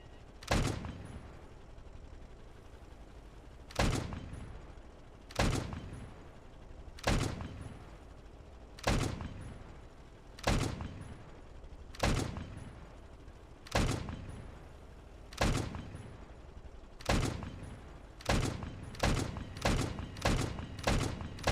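Repeated gunfire in the StormWorks game during gun accuracy testing: loud single shots spaced about every one to two seconds, speeding into a quicker burst near the end, with no talking.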